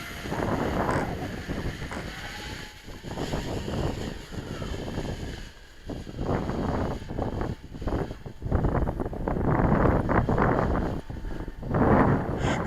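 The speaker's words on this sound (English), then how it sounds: "Struggling against the wind." Strong wind gusting outdoors near reeds and water, roaring and buffeting across the microphone throughout in loud, uneven surges with no letup.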